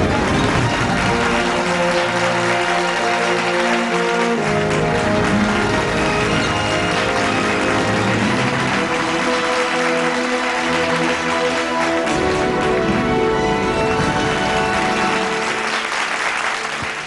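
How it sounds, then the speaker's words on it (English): Sustained, loud audience applause fills a hall at an editor's choice awards ceremony honouring a commercial vehicle, with tonal music running steadily underneath the clapping throughout. "Please applaud generously for the AMW"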